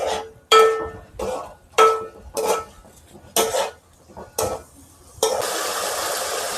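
Chicken pulao stirred in a pot, about seven separate scraping and clinking strokes of a spoon against metal, fairly close, ending in a steadier rush of sizzling noise.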